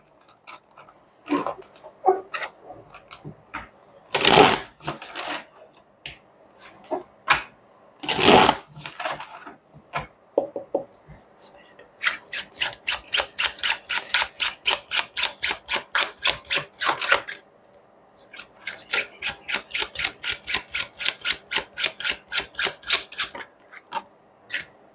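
Tarot cards are shuffled by hand, first in a few scattered riffles and soft slides, then in long rapid bursts of crisp, evenly spaced flicks, close and clear with no talking.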